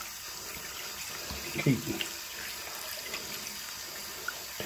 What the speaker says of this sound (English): Slowly flicking, letting the water get in there.